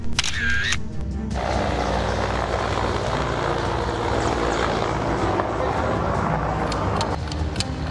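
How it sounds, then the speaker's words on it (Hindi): A military helicopter roars steadily overhead in fog, its loud, rushing engine and rotor noise filling the air without a break. "हेलीकॉप्टर की तेज आवाज"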